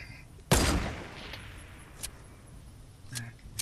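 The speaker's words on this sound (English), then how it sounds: "if I miss my sniper shot, what do you want me to do?" A sniper rifle fires in the Fortnite video game: one sharp, loud report with a short decaying tail, followed by fainter clicks and small game sounds.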